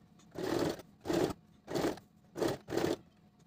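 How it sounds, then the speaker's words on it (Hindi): Sewing machine stitching lace onto a chikankari kurti, running in five steady bursts of about half a second each with short pauses between, close and clear, no talking. "अब इसको पूरा स्टिच करेंगे"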